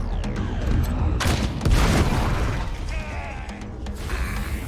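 Rocket launched and exploding in the post-apocalyptic game Wasteland 3, a sharp boom with crackling burst and debris over a few seconds, loud and close with game music and effects around it.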